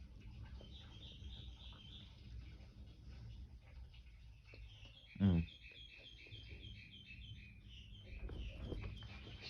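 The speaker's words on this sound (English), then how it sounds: "Shut up, birds." Small birds chirp in the background outdoors, with a series of high tweets running through most of the clip and one brief louder sound near the middle.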